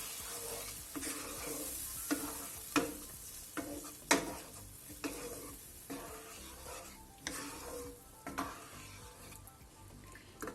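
A spoon stirs tomato sauce with pork trotters frying in a pan, giving a steady sizzle broken by a series of sharp scrapes and clacks against the pan, close and with no talk.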